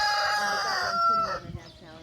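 A rooster crows at a small farm with a closed petting zoo: one loud, drawn-out cock-a-doodle-doo close by, trailing off into quiet farmyard rustling and faint clucks.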